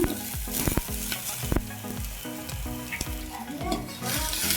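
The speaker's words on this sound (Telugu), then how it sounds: "ఇప్పుడు వీటన్నిటిని అయితే చక్కగా మగ్గించేసుకుందామండి. నెయ్యిలో చక్కగా మగ్గిపోవాలన్నమాట." Carrot and bean pieces sauté in ghee on a low flame for a vegetable soup, with a steady sizzle broken by repeated scraping knocks of a spoon stirring the pan.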